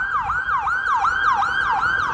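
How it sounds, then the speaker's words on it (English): An ambulance siren wailing in Dublin's city centre, a loud, near, rapid yelp sweeping up and down in regular repeating cycles with no voices over it. "The ambulances are out in force."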